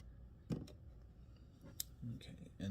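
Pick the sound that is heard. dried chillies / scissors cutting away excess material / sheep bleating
scissors cutting away excess material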